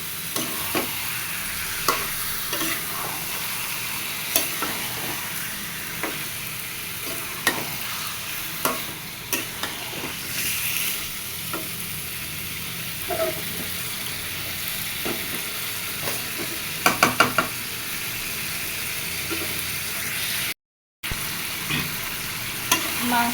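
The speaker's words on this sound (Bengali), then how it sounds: "মাংসটা নাড়া দেওয়া হয়ে গেছে, সুন্দর মতো মশলার সাথে মশলার সাথে সব মাংস মাখিয়ে গেছে।" Meat being stirred and fried with spices in hot oil, a steady sizzle with repeated scraping and stirring clicks throughout, close and fairly quiet, with no talking.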